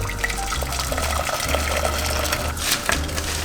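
Hot water for boiling ramen noodles splashes and sloshes in a pot, a close, busy liquid churn with small bubbling and clinking running steadily throughout.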